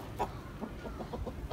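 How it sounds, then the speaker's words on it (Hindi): Java rooster on a farm, clucking in several short, soft bursts close by against a steady low background hum, with no voices. "ये है जी जावा मुर्गा, खुली टेल में मौजूद है ये मुर्गा"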